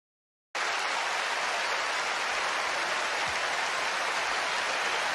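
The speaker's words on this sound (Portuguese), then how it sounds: "bata palmas, fique de pé e grite" A church congregation bursts into loud, continuous hand clapping after a half-second of silence. The dense applause hiss holds steady to the end, with no distinct shouting standing out.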